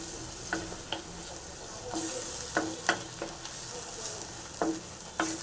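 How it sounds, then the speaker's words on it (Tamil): Egg and curry leaf masala with ginger paste fries in a pan, a steady sizzle under repeated scraping strokes of a spoon stirring it, close and fairly loud. "இதையும் சேர்த்துட்டு நல்லா ஃப்ரை பண்ணிங்க நல்லா ஃப்ரை ஆகட்டும்"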